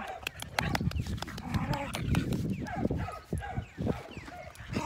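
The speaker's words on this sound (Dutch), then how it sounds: "gekke hond." A dog yips and barks in short sharp bursts near a pool, close and fairly loud, while someone speaks affectionately to it between the sounds.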